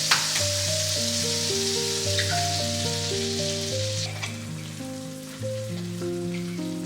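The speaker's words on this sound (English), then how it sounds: "Now that my pan is ready, I'm gonna crack 1 egg on it." An egg cracked into a hot pan fries with a steady, bright sizzle and crackle under soft background music, with no voices.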